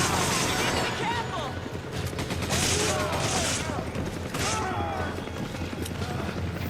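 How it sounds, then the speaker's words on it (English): Dense gunfire from the Resident Evil 5 video game, rapid bursts of shots crackling almost continuously, with players talking and shouting over them. "Shiver, stop fucking shooting me, woman"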